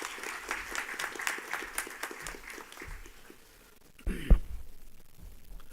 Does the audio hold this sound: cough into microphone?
no